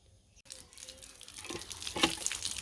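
Torn betel leaves being washed in water, soft splashing and trickling that starts after a brief quiet moment and grows louder and busier toward the end, close by with no talk.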